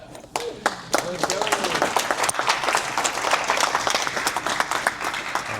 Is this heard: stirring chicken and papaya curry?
no